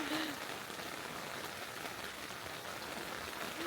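Heavy rain pounds steadily on a surface during a storm at a Death Valley campsite, a dense, unbroken roar with no talk.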